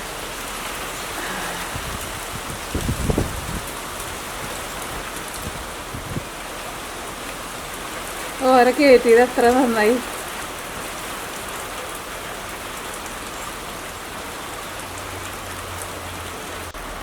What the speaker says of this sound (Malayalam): മഴ പെയ്ത് തുടങ്ങി. നമ്മുടെ മേപ്പിൾ ട്രീ നോക്കിക്കേ